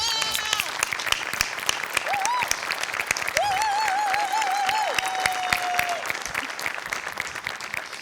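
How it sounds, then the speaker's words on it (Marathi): A theatre audience gives a standing ovation on a Marathi comedy show, a loud, dense wash of clapping that runs throughout, with a voice calling out and musical tones sounding over it. "सचिन गोस्वामींसाठी उभं राहून टाळ्या वाजवल्या"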